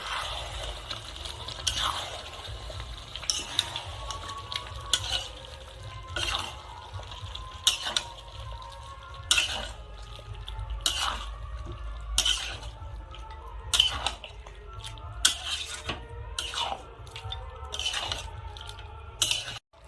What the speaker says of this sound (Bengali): দই কষা মাংসের সাথে ভালো করে মিশিয়ে নেব।